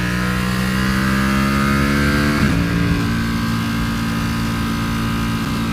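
Aprilia Tuono 1100 motorcycle on a test ride, its engine loud and close, holding a steady droning pitch before a gear change midway, then pulling on at a slightly shifted tone with no one talking.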